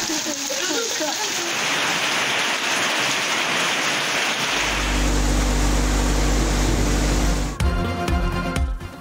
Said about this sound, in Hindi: बारिश, बर्फबारी और यकबस्ता हवाएं।